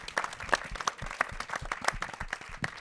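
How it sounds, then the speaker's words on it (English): A small audience claps for documentary filmmakers at a screening Q&A, brisk, uneven individual hand claps heard up close in a short, lively burst. "Round of applause for this amazing filmmakers."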